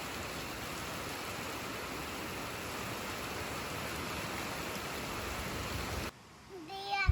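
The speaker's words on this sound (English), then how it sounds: "But then, it started raining again." Steady, dense rain hiss in the rural Vietnamese countryside that fills most of the clip, then cuts out abruptly near the end as a voice rises.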